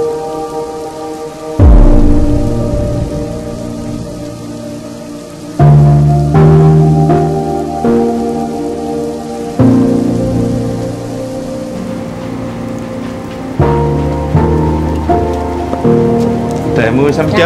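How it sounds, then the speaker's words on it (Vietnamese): Heavy rain pours steadily in a Vietnamese drama scene, and loud thunder rolls and cracks over it several times, each crash fading back into the dense, constant patter of the downpour. "Trời mưa sấm chớp nhiều quá."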